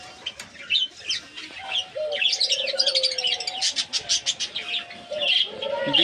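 Black Java sparrows, diamond doves and cockatiels kept together, giving a dense, continuous chorus of bright chirps and tweets over soft cooing, with occasional wing flutters, close and fairly loud throughout.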